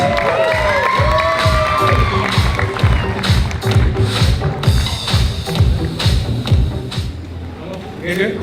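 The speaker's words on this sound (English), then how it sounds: "Friends, give them a big round of applause." Guests at a wedding reception cheer, shout and whoop while clapping steadily in a loud rhythmic beat, a lively crowd close by that keeps going for several seconds before easing slightly.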